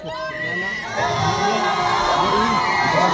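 A live music showcase crowd roars, screams and cheers loudly and continuously, building to a sustained high-pitched din of many voices.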